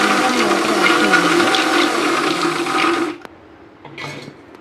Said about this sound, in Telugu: మిక్సీ పట్టండి.